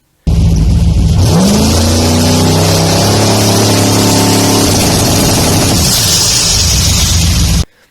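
A V6 engine on a Holley EFI two-step rev limiter revs up and holds with a loud, rapid crackling stutter, steady and close for several seconds before cutting off.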